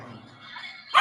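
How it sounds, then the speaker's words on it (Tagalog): A dog gives a single short, sharp bark at the very end after a quiet stretch of soft background, the bark close and fairly loud, with no talk in the clip. "Ang gulo ng aso ko eh."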